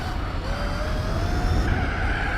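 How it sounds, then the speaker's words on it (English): Tyres of a Formula 1 car squeal in the Gran Turismo 4 racing game, a thin sustained screech riding over a loud, steady engine drone for a couple of seconds with no talking. "I'm starting to hear the tyres like squealing at the back."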